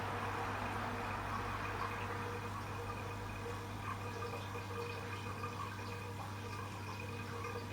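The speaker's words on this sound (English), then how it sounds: "About 35 degrees of hot water coming out, and the water itself coming out." Hot water at about 35 to 40 degrees runs out of a Grainfather brewing system in a steady, continuous gushing flow, fairly close and unbroken, with no voices.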